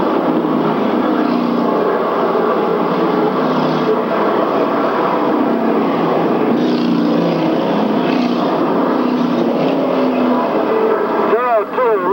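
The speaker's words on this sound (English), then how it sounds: "car of Al Snellgrove as they come out of turn 4 and back down the front stretch" International Sportsman stock cars in a 1994 twin 100 race circle a speedway, their engines a steady droning roar under almost constant announcer commentary.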